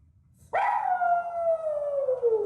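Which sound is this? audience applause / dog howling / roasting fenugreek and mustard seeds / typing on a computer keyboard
dog howling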